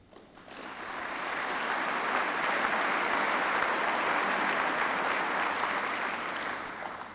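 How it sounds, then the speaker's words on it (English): Audience applause fills the Festival Theatre at the 1986 Australian Tourism Awards, swelling quickly into a sustained, even roar of many hands clapping before tapering slightly at the end. "I think your applause is well deserved"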